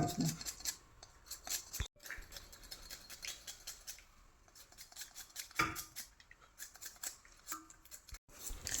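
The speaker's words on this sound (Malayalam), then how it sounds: "ഇങ്ങനെ ചെറുതായിട്ട് അരിഞ്ഞാൽ" Sharp knife chops small vegetables from a kitchen garden harvest, cut while soaking in a bowl of water, in quick clustered strokes with short pauses, close and fairly quiet, with no talk.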